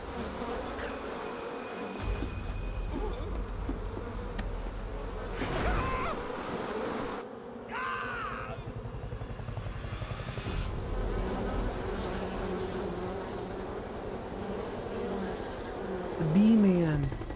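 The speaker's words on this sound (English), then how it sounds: "Hornets." Swarming hornets buzz in a video game, a continuous droning hum that shifts in pitch and loudness over mixed game sound effects and low rumbles.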